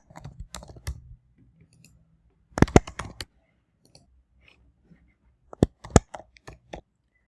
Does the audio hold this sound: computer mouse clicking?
yes